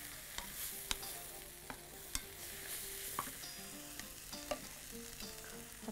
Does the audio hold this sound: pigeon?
no